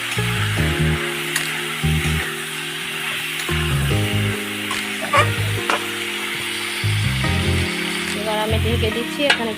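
Pointed gourd and small potatoes, seasoned with salt and turmeric, fry in a pan with a steady sizzle while being stirred, and scraping and clinking from the utensil come through close and clear.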